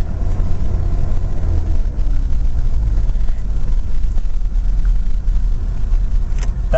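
A manual-transmission car pulls away in second gear after a full stop, its engine a steady, loud rumble with continuous road and cabin noise throughout, no talking over it.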